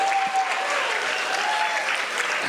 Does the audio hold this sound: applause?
yes